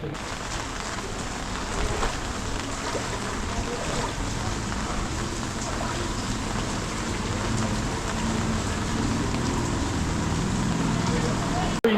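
Heavy storm rain pours down continuously during flooding in Jaffna, a dense, loud hiss of drops on surfaces, with voices faintly audible beneath it.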